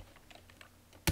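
Numbers are typed on a computer keyboard while making an After Effects motion graphics design, a quick run of light, close key clicks ending in one louder, sharper keystroke.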